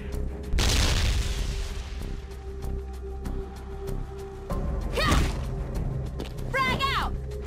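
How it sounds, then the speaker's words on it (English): A grenade explodes in the Hazard Ops video game as a loud, close boom that rumbles off, followed by further thuds and impacts, with game voices talking over parts of it. "Toss the grenade down the target."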